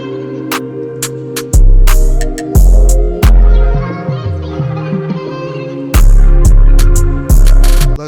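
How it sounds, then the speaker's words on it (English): A pain rap beat built from synths and pads with modern effects: hard, booming kicks and crisp hi-hats over a sustained, melodic synth chord progression, loud and dense throughout. "I wanted to take that same emotional energy, but build it with synths, pads, and modern FX processing instead"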